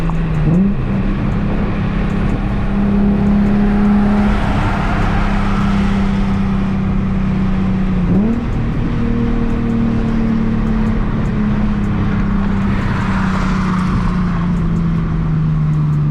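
A Nissan 350Z engine with a single-exit exhaust drones steadily, its pitch climbing and then dropping sharply as it downshifts, with revs flaring up between gear changes.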